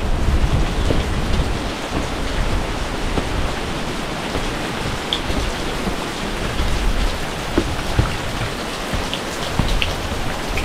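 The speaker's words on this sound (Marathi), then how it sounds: "पावसाला सुरुवात झालेली आहे." Steady heavy rain pours down at Bhaskargad fort for the whole stretch, with low rumbles of thunder rolling underneath; no one speaks.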